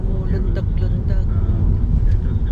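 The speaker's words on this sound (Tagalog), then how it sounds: "Nagpa-bounce ang sasakyan, may lubak na kalsada." A car bouncing and jolting over a potholed, grass-edged road toward Porirua, with steady engine and road rumble throughout, small bumps and knocks scattered across it, and faint voices underneath.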